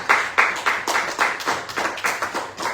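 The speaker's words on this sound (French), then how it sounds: "est-ce qu'on peut applaudir le Seigneur?" Congregation clapping in praise during a French-language Shabbat and Rosh Hashanah worship service: about ten quick, evenly spaced rhythmic claps, fairly close and full, with no talking over them.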